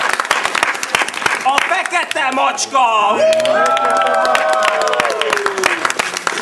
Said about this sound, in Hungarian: egy nagy tapsot kérünk